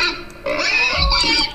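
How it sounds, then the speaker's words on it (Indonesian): A pig in the Rec Room video game grunts and oinks up close, a couple of loud nasal snorts in quick succession. "Babinya bunyi."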